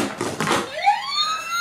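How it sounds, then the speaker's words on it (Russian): A toy Paw Patrol fire truck gives out a short electronic siren wail that rises and sweeps after a brief burst of rustling, close and fairly loud. "А это его машина пожарная."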